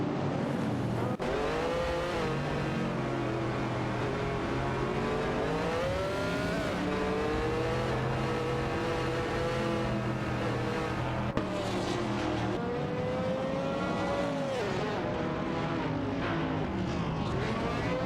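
Race cars in an AI racing video game, McLaren and Nissan among them, scream along in a steady, loud engine drone with overlapping pitches that sweep up and down as they accelerate and shift, heard without speech.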